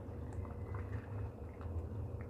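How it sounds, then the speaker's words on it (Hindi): Chickpeas simmering in a pot over a low flame, a soft, steady bubbling burble that stays low and even throughout. "20 मिनट हो गए हैं स्लो आंच पे पकते हुए चनों को।"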